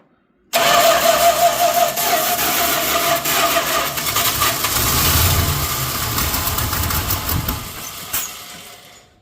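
A 1979 Dodge with a 360 V8 cranks and struggles to start on added fuel, a loud rough churning that runs steadily for about eight seconds before cutting off, with no voices.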